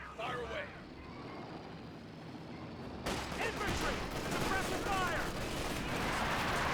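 Gunfire and artillery from a Company of Heroes 2 WWII strategy match, with a steady layer of distant shots and explosions that steps up in loudness partway through, under a commentator's voice.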